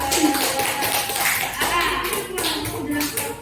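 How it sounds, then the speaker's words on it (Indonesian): Participants at an academic coaching session applaud a group, with close, loud clapping and tapping mixed with people talking over it. "Tepuk tangan untuk kelompok 2."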